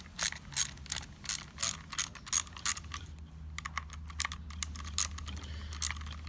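A ratchet with a 7mm socket clicks in quick, crisp bursts of ratcheting strokes, close and clear, during a Clearstream CS103EL rebuild, with a short pause midway before the clicking resumes.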